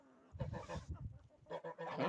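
A pair of geese honk loudly and close in a farmyard, two short bursts of harsh calls separated by a brief pause.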